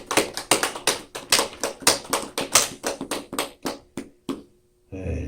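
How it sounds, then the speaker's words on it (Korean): A church congregation at a Sunday worship service claps, a quick rhythmic run of about a dozen close hand claps that thins out and stops, followed by a short rustle. "축하 박수 한번 합니다."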